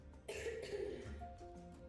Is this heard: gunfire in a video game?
no